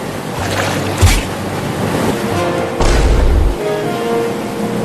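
Rushing water and surging waves, loud and close, with gusts of wind blowing across the microphone and a couple of heavier splashes.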